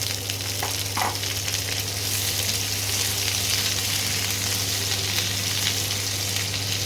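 Separated petals of three medium diced onions sizzle in hot oil in a pan: a steady, close crackling fry continues without pause, with a faint stir near the start and no talking.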